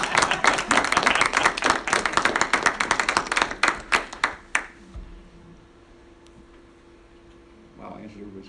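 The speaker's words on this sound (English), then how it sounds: "Let's applaud first." Audience applause at a doctoral dissertation defense, a burst of rapid hand claps from a small room that fades out after about five seconds, followed by quiet room tone and a voice starting near the end.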